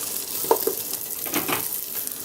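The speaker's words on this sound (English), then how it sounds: "So we're gonna let that cook just till it releases all the oils" Salami sizzles and fries in its own rendered oil in a pot for Puerto Rican-style sopa de salchichón, a close, continuous crackle with soft stirring scrapes and occasional pops.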